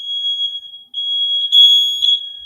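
A smoke alarm going off indoors: a steady, piercing high-pitched tone that swells into a louder, harsher burst near the end, with no talking.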